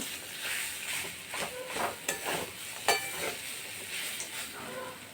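Steady sizzling in a frying pan as a boiled vegetable and fried peanut mixture for vegetable chops is stirred, with scraping stir strokes at irregular intervals, moderately close, no voices.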